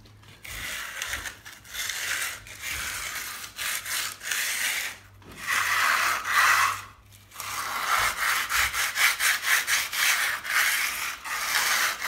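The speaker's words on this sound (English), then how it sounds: "Got some 80 grit, well, acts as a bit of a straight edge and cuts it back into shape as well." 80 grit sandpaper rasps over wetted cornice cement during a room cornice restoration, in repeated rhythmic back-and-forth scraping strokes with short pauses between bursts, close and fairly loud.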